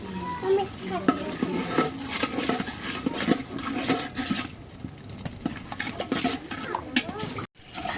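Beef being stirred and fried in a pot with ginger, garlic, cumin and garam masala pastes, giving a steady close sizzle with scraping and stirring clatter throughout.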